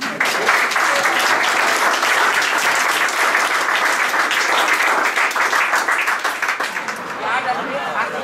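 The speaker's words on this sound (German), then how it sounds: "Und das bitte noch einmal mit donnerndem Applaus" Loud, sustained applause from a crowd at an anniversary event and themed exhibition opening, a steady dense roar of clapping that holds for about eight seconds and thins slightly near the end.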